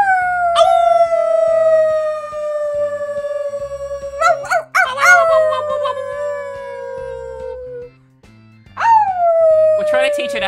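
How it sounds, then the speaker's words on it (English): A puppy howling in long drawn-out wails, three separate howls with brief yips between them, close and loud, with people talking and music playing in the background. "try to teach her to howl"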